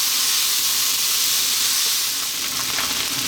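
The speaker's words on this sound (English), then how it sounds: "That is the rice frying, that's where you want it to be." Egg fried rice with frozen mixed vegetables sizzles steadily in a hot pan, a continuous bright frying hiss with a few louder crackles and stirring scrapes near the end.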